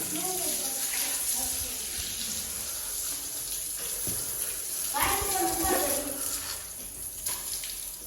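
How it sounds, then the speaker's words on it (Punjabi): Water runs and splashes steadily as a carpet is washed, with surges of gushing and sloshing, while people talk over it at close range. "ਇਹਨੂੰ ਕਾਲੀਨ ਵੀ ਕਰਦੇ ਆ ਪਾਣੀ ਨਾਲ ਅੱਛੀ ਤਰ੍ਹਾਂ ਧੋ ਕੇ"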